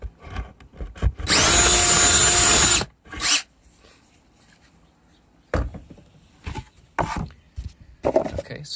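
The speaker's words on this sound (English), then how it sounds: "I drilled the holes in the tray first" A power drill runs in one close burst of about one and a half seconds, boring into a plastic Dollar Tree tray, set among scattered knocks and handling clatter of the plastic.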